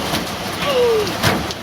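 A heavy evening rain downpour in a resort town park, with a steady dense hiss of rain throughout and a brief whistle-like tone rising over it.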